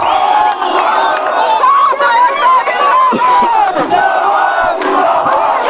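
A large, loud crowd of young people at a rally, a dense roar of many voices with shouts and cheering rising and falling close by, nearly continuous for several seconds.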